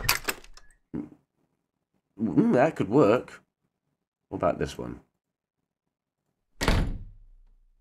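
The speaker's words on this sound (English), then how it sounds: "let's see what a normal door sounds like" Door sound effects played back for testing, a few short thunks of a normal door shutting between bits of speech, with a louder door thud near the end.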